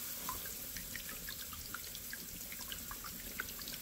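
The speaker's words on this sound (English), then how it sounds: "Now, it does splash a little bit of water out of here." An ultrasonic fog mister floating on foam floats in a water-filled bin gives a steady, close watery hiss with fine bubbling splashes and scattered small drips throughout, with no voices.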